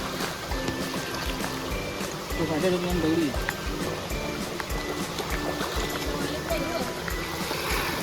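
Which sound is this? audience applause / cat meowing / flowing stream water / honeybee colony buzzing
flowing stream water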